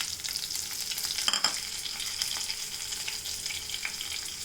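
Cut ginger and green chilies fry in a pan with a steady close sizzle, and a brief stir or scrape adds a short clatter midway.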